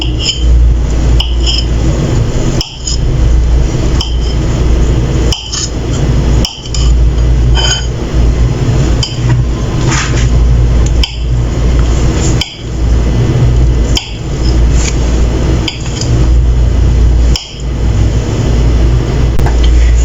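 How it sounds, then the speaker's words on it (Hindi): A steady run of knife chops through boiled potatoes on a board, thudding in quick succession for a long stretch, loud and close. "अब जो यहाँ मेरे पास 2 अदद उबले हुए आलू हैं, मैं इन्हें रफली चॉप कर लूंगी"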